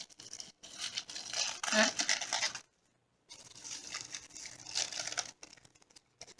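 Packaging crinkles and rustles as it is unwrapped by hand, in two close, fairly loud stretches separated by a brief silence, with a short vocal exclamation.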